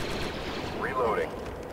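Rapid blaster fire from Star Wars Republic Commando rattles in a dense, steady stream, with a whining synthetic sweep through the middle, loud and continuous throughout.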